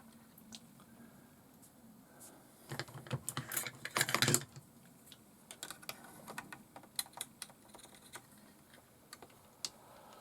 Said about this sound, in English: now I've just got to try and fit these cable ties